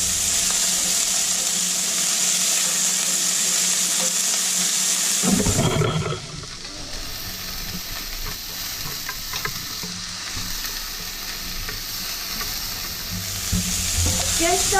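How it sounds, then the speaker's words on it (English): Green chili sautéing in a pan for homemade chili, a bright steady sizzle at first, then a sharp burst of stirring and scraping followed by a quieter, continuous frying hiss. "So we're going to saute those up, and we got our green half chili that we're adding in."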